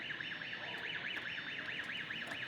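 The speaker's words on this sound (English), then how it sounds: "When you turn on the forklift, the alarm will come on." A LIFT HERO CPD30 6,000 lb electric forklift sounds its startup alarm, a steady warbling electronic tone sweeping up and down in a fast regular cycle, loud and continuous throughout with no talking.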